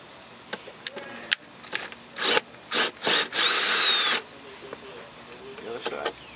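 8mm Phillips head screws come out of the glove box of a 2002-2005 Audi Allroad, heard as scattered light taps and scrapes followed by several short rasping tool bursts and one longer one, close by.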